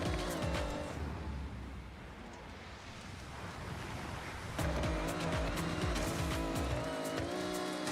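Car tires squealing under hard braking in the racing game Forza Horizon 6, a continuous hiss of tire noise and road rumble that grows louder and harsher partway through, with engine tones returning.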